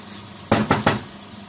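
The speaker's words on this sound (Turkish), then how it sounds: "Temizleyip, yıkayıp süzmüş olduğum pirinçlerimi ilave ediyorum şimdi." Washed, drained rice tipped into a pot of meat and pea stew lands with three quick, close clattering scrapes against the pot, with no other sounds around them.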